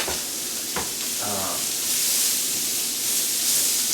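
Mirepoix of diced vegetables hits hot olive oil and bursts into a loud, steady sizzle that swells slightly and holds, with a few faint knife-scraping clicks early on.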